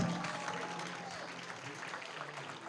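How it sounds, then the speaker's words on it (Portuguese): A room full of people applauds, dense steady clapping that carries on evenly at moderate volume, with a few voices mixed into the crowd noise. "Salva de palmas para todos vocês."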